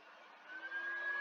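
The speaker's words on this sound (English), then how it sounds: "Or my fan. It sounds like a Hoover." A computer fan whirs steadily like a vacuum cleaner, a constant broadband hum with a faint tonal whine that rises slightly partway through, quiet and continuous with no talk.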